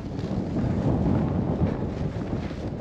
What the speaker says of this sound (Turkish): Fena bir rüzgar var ama ya.